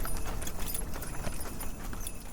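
Horse hooves clip-clopping as a radio-show sound effect in a Christmas radio play, a steady, fairly soft rhythmic clatter running continuously over a low background rumble, with no voices.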